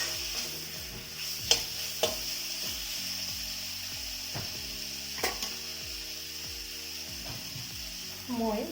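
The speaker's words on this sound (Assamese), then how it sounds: "বিলাহীখিনি ভাজ হোৱালৈকে মই ভাজি দিম" Two cut tomatoes fry in a pan for an Assamese fish and taro root curry, a steady soft sizzle running throughout, punctuated by a few sharp clinks of a spatula against the pan.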